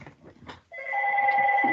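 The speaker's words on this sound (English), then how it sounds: "That's my phone." Mobile phone ringtone, a steady sustained electronic ring that starts suddenly after soft room noise and continues loud and close through the rest of the clip.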